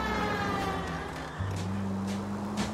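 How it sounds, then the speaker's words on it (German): Police car siren in L.A. Noire, a steady wailing tone heard from inside the car over engine rumble, with no talk. "Ich mache mal die Sirene aus."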